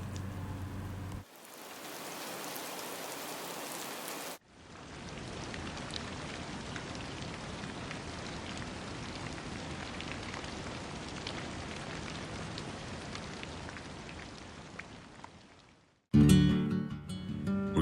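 Steady rain pours over a lakeside campsite on a private island with mountain views, a dense even hiss lasting about twelve seconds, set between quieter stretches at the start and a louder burst at the end.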